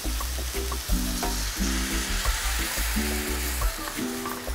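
Chayote simmering in a hot pot with a crumbled stock cube hisses and sizzles steadily as a splash of water hits it, a dense close crackle holding throughout with small bursts and no talking.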